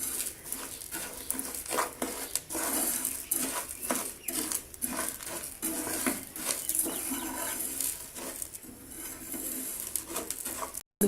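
Spoon slowly stirring peanut chikki sugar syrup in a pan over low heat, a series of irregular metallic scrapes and taps close up, with a faint background hum between strokes.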